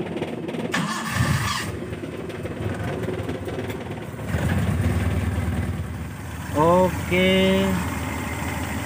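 A small engine with freshly adjusted contact breaker points cranks and catches, then runs with a rough, loud idle; a voice speaks briefly near the start.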